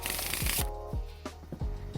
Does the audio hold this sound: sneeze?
no